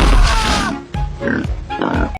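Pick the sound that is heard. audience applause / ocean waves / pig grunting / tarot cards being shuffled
pig grunting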